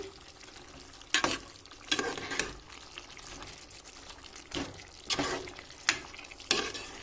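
Chicken curry sizzles steadily in a hot pan while a spoon scrapes and stirs in sharp bursts every second or so.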